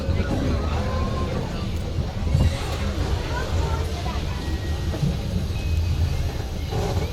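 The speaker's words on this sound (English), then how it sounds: "please remain seated while the tram is in operation" A zoo tram at Singapore Zoo rumbles steadily along its route, a continuous low engine and rolling drone heard up close, with faint voices in the background.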